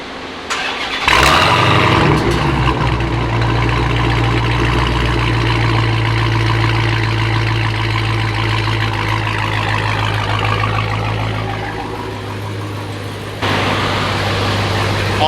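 A Dodge Hellcat engine fires up on a dyno and settles into a loud, close, steady run with a deep droning tone that dips slightly before rising again near the end.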